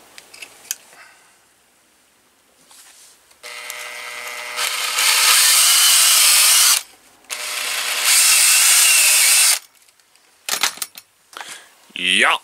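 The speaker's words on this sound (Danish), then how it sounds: "så fik jeg lige boret tre huller i et stykke træ" Power drill boring holes in a piece of wood, heard as two long, loud, high whining runs of several seconds each, separated by short pauses, with brief quieter clicks and handling noises before and after.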